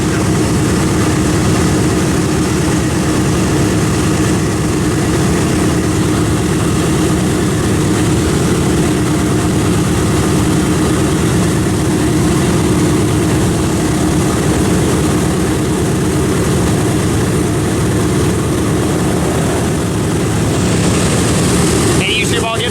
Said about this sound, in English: Alright, YouTube, the B-17 is moving.